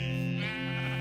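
A sheep bleats in a Minecraft game with the Lord of the Rings mod, one short wavering bleat heard clearly and alone.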